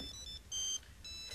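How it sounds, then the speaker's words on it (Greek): An electronic telephone ringtone sounds in three short bursts of high bright tones with brief gaps between them, moderately loud, alone, with no talking. "Πάρε τηλέφωνο, ρε παιδιά, σηκώστε το."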